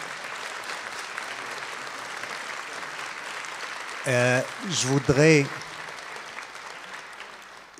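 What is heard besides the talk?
audience applause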